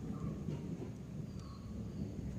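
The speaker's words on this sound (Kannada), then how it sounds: "ಗುಡುಗು ಮಿಂಚು ಮಳೆ ಬರೋಂಗೆ ಆಗ್ತಿದೆ" Thunder rolls over a village farm before rain, as a low, distant rumble that swells and fades softly with no voices.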